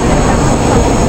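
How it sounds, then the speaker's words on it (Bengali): A metro train pulls into a station in Rome, a loud, steady broadband rumble of wheels and motors filling the platform throughout, with voices faintly mixed in. "এই যে ট্রেনটা আসছে"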